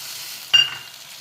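Chopped tomatoes dropped into a hot curry pan for a fenugreek-leaf curry, a sudden close burst of sizzling that rises sharply then settles back into a steady low hiss of frying, with no talk.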